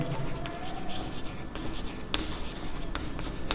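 A pen scratches steadily as someone writes by hand during a mathematical logic lesson, a continuous close scraping with a few sharper taps and no speech.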